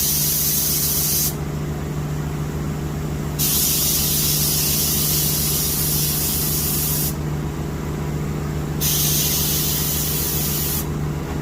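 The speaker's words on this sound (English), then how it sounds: "Anytime you spray away from the body, that helps as far as, overspray." A spray can paints a mallard duck decoy's beak in loud, steady hissing bursts that start and stop, several seconds each, over a constant low hum.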